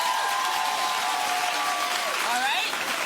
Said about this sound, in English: clap if you think this relationship is a wrap